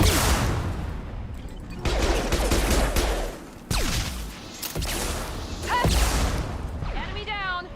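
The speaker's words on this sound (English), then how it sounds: "Shotgun!" Gunfire in Mass Effect Legendary Edition: a loud, dense run of shotgun blasts and weapon bursts with whooshes and impacts, crowding the whole stretch in bursts with brief dips between volleys.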